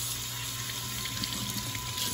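A sink tap runs for a hand rinse with plain water, a steady close hiss and splash that holds without a break.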